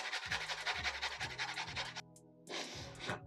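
Peeled ginger root is rubbed over a fine grater for chicken curry, giving quick rhythmic rasping strokes close by, a brief pause, then another burst of scraping.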